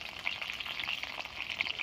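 Cauliflower pieces fry in hot oil with a steady, bright crackling sizzle that stays close and fairly even throughout, with small popping bursts scattered over it.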